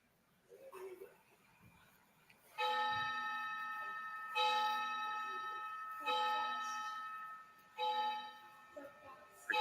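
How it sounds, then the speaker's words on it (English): Slow, resonant town bells strike one after another, each tolling and sustaining before the next, heard at a moderate distance in a quiet setting. "I can hear the town bells ringing there."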